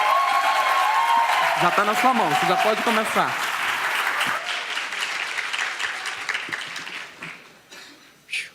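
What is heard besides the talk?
audience applause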